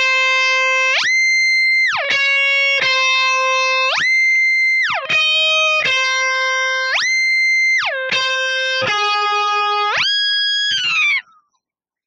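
Distorted electric guitar riff with whammy pitch-shift sweeps plus an eighth-note delay at 81 BPM, notes gliding up and down while repeats trail behind each phrase, loud and continuous, alone without voices.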